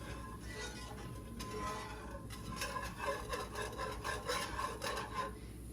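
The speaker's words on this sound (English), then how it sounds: "use my whisk here to whisk everything together. I want to make sure that I'm scraping the bottom of the skillet" A whisk scrapes rhythmically across the bottom of a skillet while stirring broth into a gravy for keto Swedish meatballs, producing a quick, gritty, repeated rasping, close and moderately loud.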